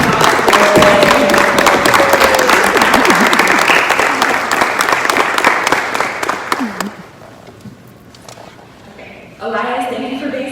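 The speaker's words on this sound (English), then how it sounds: "give them a big round of applause." Loud, dense applause from a crowd at a signing ceremony, steady for several seconds before dropping off, then a brief burst of voices near the end.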